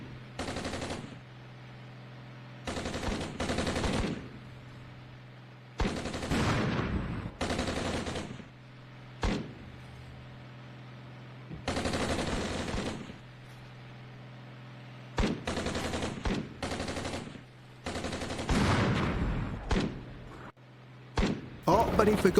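Tank machine gun fire in the Armored Brigade 2 war game comes in repeated bursts, several sharp rattling volleys spaced a second or two apart, fairly loud against a low background rumble.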